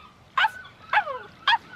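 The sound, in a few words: puppy barking in anime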